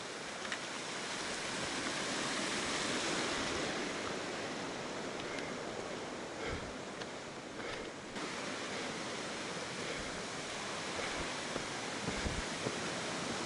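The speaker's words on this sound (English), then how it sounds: "This is Foos's Creek on the bridge." Creek water rushing beneath a bridge along a trail, a steady broadband wash of flowing water, fairly constant and close, with no voices.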